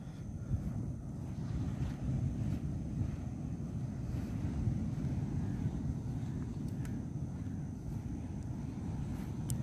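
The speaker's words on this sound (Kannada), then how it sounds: "ಅಲೆಗಳ ಹೊಡೆತ ಸೌಂಡ್ ಹಂಗೆ ಇಲ್ಲಿ ಕೇಳಿಸ್ತಾ ಇದೆ" Sea waves break on Tannirbhavi beach at night, a steady, continuous low roar of surf with wind noise rushing across the microphone and no voices.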